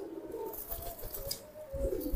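A domestic pigeon cooing up close, soft low rolling coos repeating over a couple of seconds, faint and alone.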